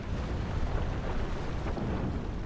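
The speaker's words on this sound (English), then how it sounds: "How much ammo do these rocket launchers have?" Dense, continuous rumble of dwarf rocket launchers firing and exploding in a Total War battle, a sustained loud wall of blasts and booms with no clear gaps, heard alone without talk.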